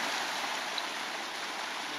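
Waterfall in Pelister National Park, a steady, loud rush of falling water filling the whole clip with an unbroken broadband roar and no voices.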